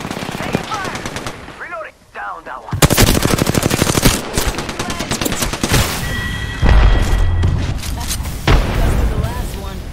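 Rapid automatic gunfire bursts from the Apex Legends video game, loud and sustained through most of the stretch, with booming impacts and game voice lines mixed in.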